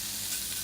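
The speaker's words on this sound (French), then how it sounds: "Là, on va bien faire colorer le lard." Bacon lardons sizzling and browning in fat in a saucepan, a steady soft hiss of frying throughout.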